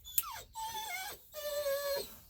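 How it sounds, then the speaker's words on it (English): A dog whines in a few faint, drawn-out, high-pitched cries that slide downward, each separated by a brief pause. "My dog is whining."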